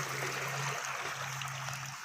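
Water streams steadily from the outlet of a solar pump run through an INVT VFD, a continuous rushing flow with a faint low hum of machinery beneath it.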